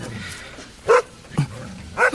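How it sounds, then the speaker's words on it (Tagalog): A neighbour's dog barks at night, three short sharp barks spaced across a couple of seconds, moderately close over a low background hum. "may kinahula ng aso ng kapitbahay"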